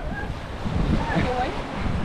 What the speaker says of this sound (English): The beautiful Indian Ocean.